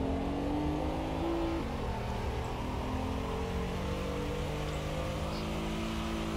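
A car driving fast through a residential neighborhood, its engine a steady, continuous drone with a shifting pitch, heard from inside or close by with no talking.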